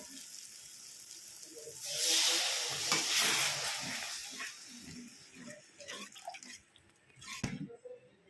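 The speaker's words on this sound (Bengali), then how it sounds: "এবার পরিমাণ মতো জল দিয়ে দেওয়া হবে" A loud rush of water poured into frying curry masala in a hot pan, rising to a broad hissing splash for a couple of seconds, then settling into bubbling and clinking.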